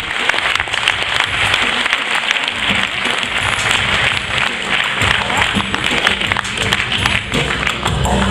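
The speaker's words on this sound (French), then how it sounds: "on peut les applaudir une nouvelle fois" An audience at an awards ceremony applauds the winners, with dense, sustained clapping from a large crowd that continues steadily and loudly throughout.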